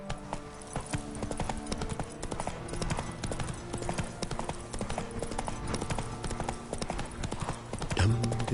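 Roach the horse clip-clops steadily through the world of The Witcher 3, a continuous trotting rhythm of hooves close up under game music and ambient sound, with a brief louder burst near the end.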